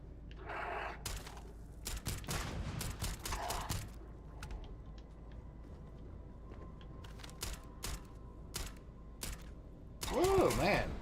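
Sharp gunshots fired by the player in the space game Starfield, scattered single cracks and short clusters spread across a quiet stretch, with talking in between and a louder burst of activity near the end.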